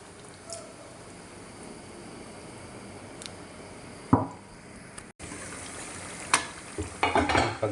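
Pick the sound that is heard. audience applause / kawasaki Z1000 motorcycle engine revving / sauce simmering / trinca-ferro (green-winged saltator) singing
sauce simmering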